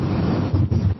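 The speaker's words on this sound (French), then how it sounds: "Il n'y aurait pas ce petit vent, ça serait parfait." Wind buffets the microphone outdoors in sunshine beside motorcycles being readied for a road trip, a short low rumbling gust with uneven surges, fairly loud and alone without any talk.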